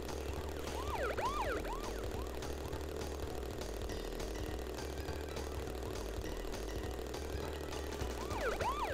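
Police car sirens wail in the game Crash Bandicoot 3: Warped, repeated swooping yelps at the start and end over a constant busy background drone.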